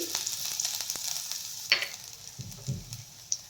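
Finely chopped garlic and ginger sizzle in hot oil in a wok for veg manchurian, a steady soft frying hiss broken by a few sharper stirring clinks and scrapes near the end.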